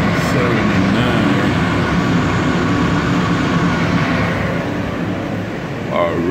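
A Kawasaki R-160 New York subway train on the J line, a loud continuous rumble and roar of wheels on track throughout, with a rising whine near the end.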